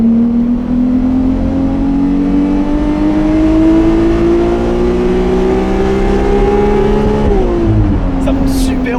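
Ferrari 296 GTS hybrid V6 engine revving steadily upward in first gear, a loud continuous rising engine tone that climbs for several seconds and then drops as revs fall.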